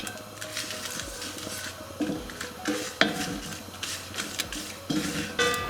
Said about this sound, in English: When the mustard seeds are popping